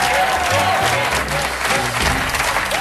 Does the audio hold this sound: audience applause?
yes